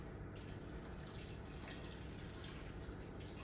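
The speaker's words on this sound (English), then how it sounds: "I'm going to add about 2 cups of boiling hot water" Boiling water from a kettle is poured steadily into a pot of cabbage, a continuous close splashing and trickling stream with no talk.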